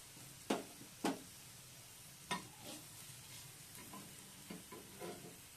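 Garlic and cumin with spices sautéing in butter for herb rice, a soft steady sizzle broken by several sharp stirring scrapes and clinks of a utensil against the pan, heard close with no talking.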